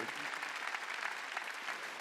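Congregation in a gymnasium at a Christmas church service applauds, a steady, even wash of clapping from many hands, fairly faint and continuous.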